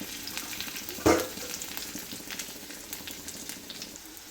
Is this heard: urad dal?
yes